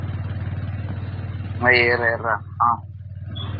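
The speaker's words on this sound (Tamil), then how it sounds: "இன்ஜின் செம்ம சவுண்டா இருக்கு ப்ரோ" A car engine idles in the video game A Long Road, a steady low rumbling drone running throughout while people talk over it.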